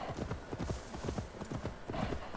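Horse hooves clip-clopping at a steady trot in the video game Assassin's Creed Valhalla, riding through snow, a dense rhythmic run of close, fairly loud hoof falls with no talk over them.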